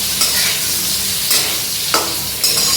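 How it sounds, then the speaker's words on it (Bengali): Cumin seeds and chili crackling in hot oil during Bengali tempering for sour dal, a steady close sizzle with several brief louder stirring scrapes. "জিরে ফোড়ন আর লঙ্কা তো এই জিরে ফোড়নটা আমি এখানে দিয়ে দিলাম"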